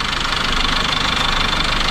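A used SsangYong Korando Turismo's engine idles after warm-up, heard up close as a loud, steady rumble with an even rhythmic knock and vibration throughout, no one speaking.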